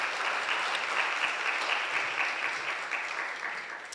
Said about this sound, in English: let's give a big round of applause to everyone